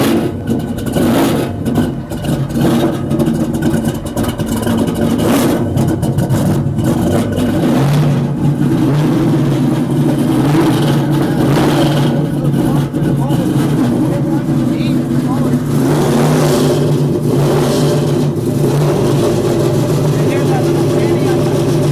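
A custom-built muscle car engine runs loud and close, rising and falling in deep revving bursts as the throttle is blipped. Excited voices are heard over the engine.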